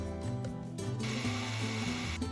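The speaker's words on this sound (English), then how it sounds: "it was time to drill in a hole" A power drill bores a hole through a steel knife blade, whining with shifting pitch as the bit bites, the tone turning harsher partway through, close and steady with no talk.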